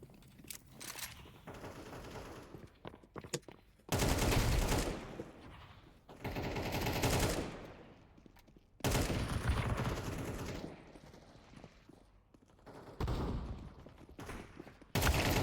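An AK rifle fires in the Counter-Strike video game: several bursts of rapid automatic fire, loud and close, separated by short quieter gaps with scattered clicks and smaller shots.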